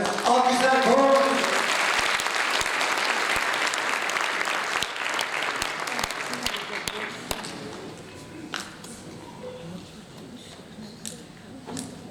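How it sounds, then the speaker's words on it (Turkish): An audience at a Turkish classical music ensemble concert applauds, dense clapping that starts strong and gradually thins out into scattered claps, with a voice speaking over the fading end. "Siz tasarımınızı ve konumuzu alkışlarken"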